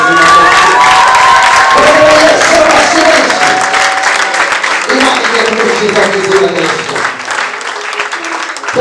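Church congregation applauding during a prophetic worship service, a loud continuous wash of clapping and cheering voices filling the room for the whole stretch, easing slightly near the end.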